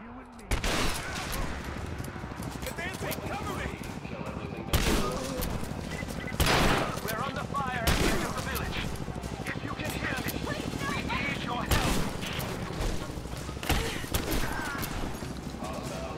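Gunfire in the video game Rise of the Tomb Raider, including shotgun blasts, crackles in repeated bursts against continuous loud game action and music, with a voice talking over parts of it.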